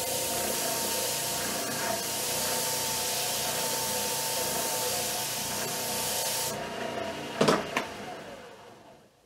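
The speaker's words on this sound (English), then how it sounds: "Your old snow brushes work really good for cleaning off your sandpaper." Old snow brush bristles scrubbed over sandpaper make a steady, close, hissing scratch for about six and a half seconds, then stop, followed by a couple of short knocks and rustles.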